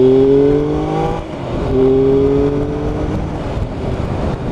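A Triumph Daytona 955i triple-engined motorcycle accelerating hard in second gear on the road, its engine note climbing steadily and shifting once, loud and close over strong wind rush.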